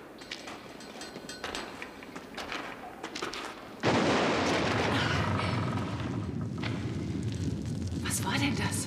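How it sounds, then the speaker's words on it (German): A sudden loud explosion bursts in partway through after quieter rumbling, then gives way to a sustained, heavy roaring rumble. "Seit Wochen schon werden diese Explosionen bedrohlicher und lauter."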